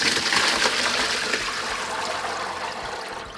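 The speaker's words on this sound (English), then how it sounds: "And then you just run water over it for a while" Tap water gushes steadily over salted, shriveled napa cabbage in a kitchen sink while making kimchi, a broad continuous splashing rush that stays loud and even throughout with no talking.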